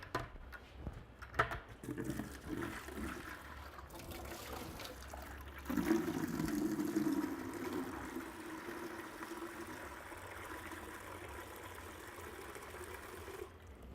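Tap water running steadily into a large brewing pot, filling it with a couple of gallons for boiling grain; the stream grows louder and fuller partway through, then continues at a steady moderate level on its own.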